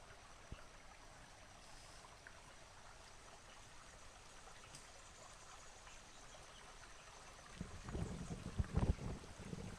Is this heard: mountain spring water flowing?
yes